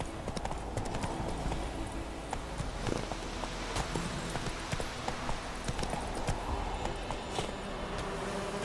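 Roach the horse in The Witcher 3 moves with a steady, rhythmic clip-clop of hooves on the ground, fairly quiet, over faint ambient game sound.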